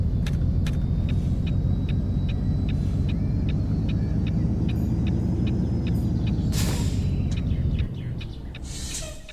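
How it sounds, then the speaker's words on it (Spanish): An International Lonestar semi-truck descends tight, potholed curves on engine braking, a loud, steady, close low rumble with a regular faint ticking on top. The rumble drops off sharply near the end. "Entramos con puro freno motor. Bajamos un cambio más."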